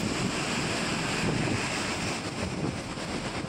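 Flooded Shingvadi river in Gir Somnath, swollen by heavy rain, surges against a 20-foot-high bridge: a steady, loud, broadband roar of rushing water with no pauses and no voices.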